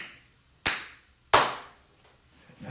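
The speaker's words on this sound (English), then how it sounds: "I forgot to clap" Two sharp, loud hand claps about 0.7 seconds apart mark the start of a podcast recording in a quiet room, followed by a faint rustle.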